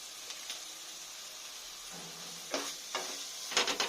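Spice masala frying in a pan for a fish curry, a faint steady sizzle that swells as a spatula scrapes through in short bursts near the end, no one speaking.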